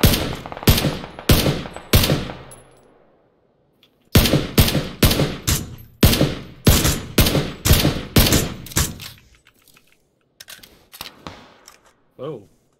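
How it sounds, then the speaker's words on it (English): Gunfire in PUBG: loud, close bursts of rapid automatic shots in several volleys separated by short pauses, then fainter scattered shots trailing off, with a brief voice near the end. "Whoa, shots to our left."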